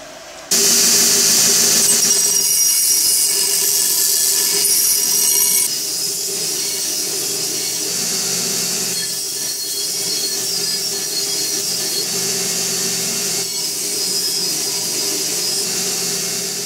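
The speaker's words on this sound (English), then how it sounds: "finish drilling these on the drill press" A loud, steady high-pitched grinding whine of a drill press cutting holes in steel, holding for many seconds before easing slightly.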